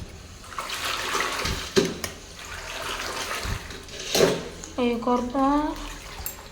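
Water sloshes and splashes as a mop is wrung out in a bucket, a swishing, dripping wash in uneven surges, with a person speaking partway through.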